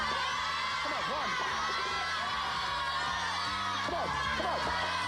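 Children in a TV game show studio audience cheer and shout continuously, a loud, dense crowd noise with whoops rising over a steady rhythmic beat.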